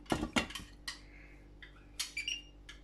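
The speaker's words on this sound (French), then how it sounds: "Je mets le couvercle" A lid set onto a cooking pot holding stuffed courgettes with salt and pepper, giving a few close, sharp metallic clinks and clatters spread over about three seconds with quiet pauses between, no talking.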